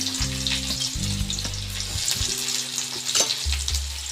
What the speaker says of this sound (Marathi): चांगला कांदा परतून घेऊया।